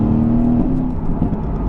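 A rear-wheel-drive car accelerating, a close, steady engine whir and hum that wavers briefly, with no voices.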